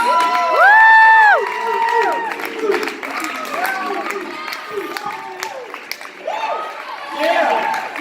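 Church crowd cheering, whooping and clapping for a youth pastor's introduction, with loud shouts and whoops rising over steady applause that eases slightly before swelling again at the end.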